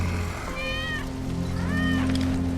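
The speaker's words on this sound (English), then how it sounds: "That's Wedge's cat." Cat meowing in the Final Fantasy VII Remake video game, two drawn-out meows close by over a steady low in-game hum and background ambience.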